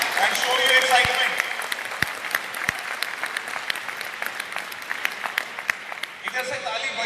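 Audience applause at a seminar on business success: a steady burst of many hands clapping together, loud and close, fading into scattered claps with a speaker's voice heard over the tail.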